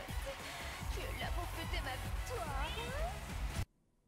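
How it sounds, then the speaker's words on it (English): A cat meows repeatedly in a fighting video game trailer for Tekken 8's character Lili, several close, clear rising and falling meows over background game audio, then abrupt silence. "The cat's like, meow."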